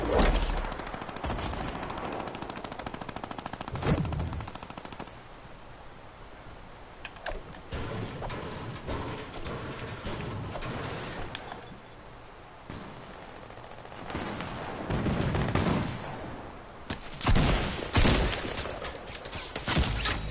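Gunfire from players in the video game Fortnite, with scattered sharp shots and short rapid bursts at varying distances, alongside intermittent keyboard clicks and game noise.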